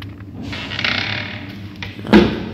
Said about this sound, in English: finally can pull a door to come inside of our home